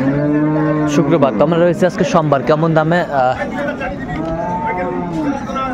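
Friesian and crossbred cows and calves low at the Ambari cattle market in Dinajpur, drawn-out moos mixed with someone talking close by, amid the general murmur of the market.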